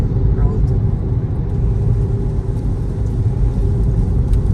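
A car driving along a road in Auckland, New Zealand, heard from inside as a steady, loud low rumble of engine and road noise continuing throughout, with talk over it.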